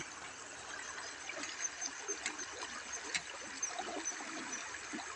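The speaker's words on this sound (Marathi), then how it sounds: "ओढा खळखळ वाहतोय पाणी वाहतंय" Faint water in a small village stream gurgles and trickles steadily in the distance, a soft continuous hiss with small bubbling bursts and no talking.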